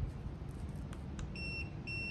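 A SmooSat E9 kids' electric scooter gives short electronic beeps as its mode button is pressed to switch speed modes, two clear tonal beeps standing alone over a low steady background hum.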